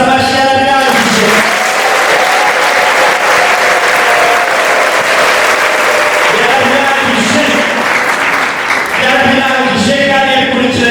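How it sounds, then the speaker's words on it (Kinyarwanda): Loud, sustained applause fills a church congregation, steady clapping from a large crowd throughout, with voices rising near the start and end. "muhereza amashyi yarabirangije"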